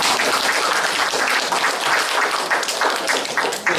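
Audience applause for a cello ensemble at a cultural forum, steady dense clapping from a crowd filling the room with no pause throughout.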